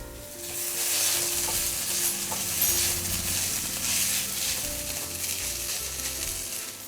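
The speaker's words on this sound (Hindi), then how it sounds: "सिम पे अच्छे से ब्राउन होने तक भून लूंगी।" Sliced onions fry with ginger garlic paste in a pan for an Indian egg drop curry, a steady close sizzle with occasional stirring scrapes and no talk.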